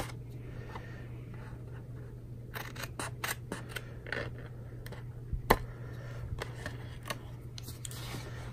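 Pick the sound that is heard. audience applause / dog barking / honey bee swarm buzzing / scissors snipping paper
scissors snipping paper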